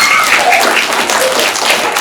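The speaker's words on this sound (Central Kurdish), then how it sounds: "زۆر ینی زیاد لە سنوور خۆش بێت چۆن چەپڵە لێ دەدەن" A group of children claps together at a program, a dense, continuous burst of applause lasting about two seconds.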